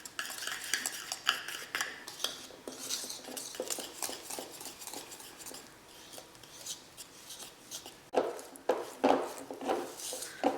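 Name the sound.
stirring sifted flour into cake batter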